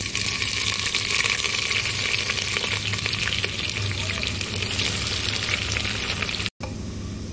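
Sliced onions with bay leaf and a little sugar hit hot oil in a pan for mutton curry, producing a dense, loud, continuous sizzle with some stirring, briefly cut off near the end.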